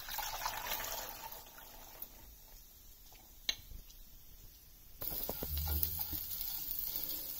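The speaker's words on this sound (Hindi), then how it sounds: "जब तक हम अदरक भून रहे हैं तब तक हम इसको स्ट्रेन कर लेते हैं।" Grated ginger sautés in a pan while black chickpea soup is strained, a faint, close sizzle with soft liquid trickling and a few light clicks.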